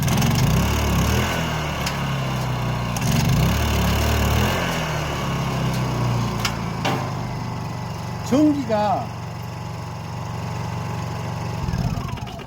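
A generator engine starts and settles into a steady running drone in a honey-extraction cart setup, loud and close throughout, with a short rising whine near the end.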